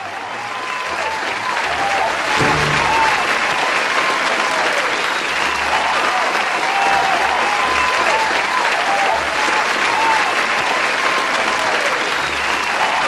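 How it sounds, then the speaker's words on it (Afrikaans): A massive crowd of enthusiastic supporters cheers and applauds at Jan Smuts airport, a loud, continuous wash of clapping that holds steady for the whole stretch with no break. "Hulle word deur 'n massa skare entoesiastiese en juigende ondersteuners op die lughawe Jan Smuts ingewag en"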